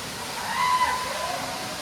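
Water pours down at Koodlu Theertha waterfall, a steady broadband rush heard from a short distance, even and continuous throughout.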